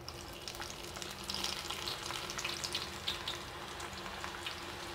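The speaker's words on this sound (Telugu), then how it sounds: "ఆయిల్ బాగా హీట్ అయిపోయింది, ఆల్రెడీ మనం కలిపెట్టుకున్న పకోడీ పిండిని వేసుకుందాం" Onion pakodi batter fries in hot oil, a steady, fairly quiet sizzle and crackle running throughout with faint scattered pops, no talking.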